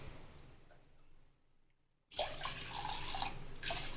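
Water pours steadily into a metal vessel for making tea after a quiet moment, with a bright splashing stream that continues to the end, close by.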